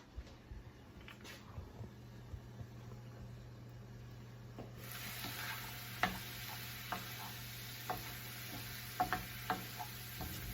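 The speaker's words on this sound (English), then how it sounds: "While we're waiting for the onions and carrot to finish cooking" Onions and carrots cook in a pan for vegetarian meatballs, a faint sizzle that brightens midway, with light scraping and tapping of a utensil at irregular intervals and no voices.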